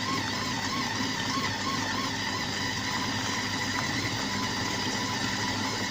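A Compact Cook Pro food processor runs at speed 4 while chopping oranges for marmalade, giving a constant motor whir and vibration, with no talk.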